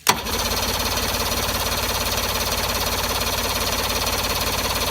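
A boat engine on a bass boat fires up and settles into a steady, loud, evenly pulsing idle that runs on without pause, close by and with no talk over it.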